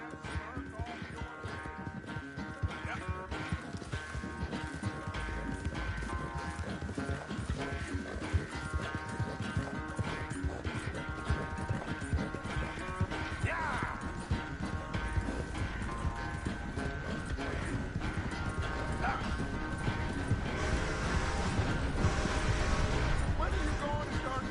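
Horse hooves clip-clop steadily in the video game Red Dead Redemption 2, an even, continuous walking rhythm heard under voices and a background music bed.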